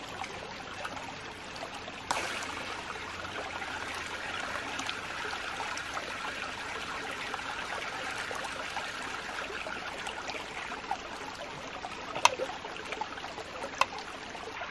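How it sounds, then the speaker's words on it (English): Water and pressure released through a ram pump valve at a creek send out a steady, rushing trickle and stream of water that holds for about fifteen seconds, with a sharper burst near the start and a few clicks later on. No one speaks. "Then I'm gonna try and open this valve to let the pressure out."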